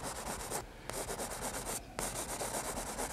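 A paint brush scrubbing oil paint onto a canvas, a close, continuous dry rubbing and scratching in quick back-and-forth strokes with two brief pauses.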